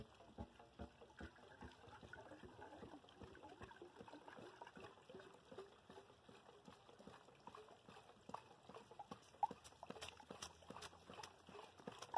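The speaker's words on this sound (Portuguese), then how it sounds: "a gente já tem uma quantidade muito boa de água saindo" Water gushes and trickles steadily out of a non-electric pump set up at a lake, a faint continuous splashing with scattered small clicks and knocks throughout.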